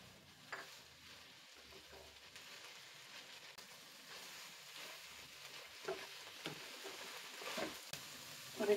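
Minced keema sautéing in a pan: a faint, steady sizzle with soft spoon scrapes and stirring that grow slightly busier toward the end.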